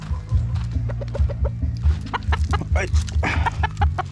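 Chickens cluck busily and repeatedly at close range while being fed a measured scoop of feed, with a steady chorus of short clucks and a brief human exclamation partway through.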